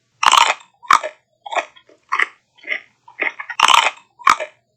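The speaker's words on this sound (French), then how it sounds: "Alors il mange le chou, feuille à feuille. Il croque." Munching on a red cabbage leaf by leaf, a sheep gives a string of sharp, close, crisp crunches in an uneven rhythm, about nine bites with brief pauses between them.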